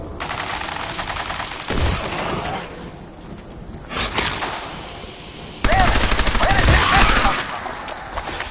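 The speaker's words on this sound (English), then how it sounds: "Men, open fire." Automatic gunfire in the Fallout 4 video game, with several bursts of rapid shots ringing out close and loud in a rattling, continuous fusillade, the last stretch the densest, while a voice speaks briefly partway through.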